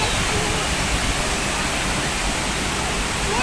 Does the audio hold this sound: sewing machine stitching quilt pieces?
no